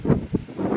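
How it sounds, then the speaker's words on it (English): Strong outdoor wind gusts buffet the microphone in a few rough, rumbling bursts, loud and close, with no speech over the brief stretch. "y'all see how windy it is?"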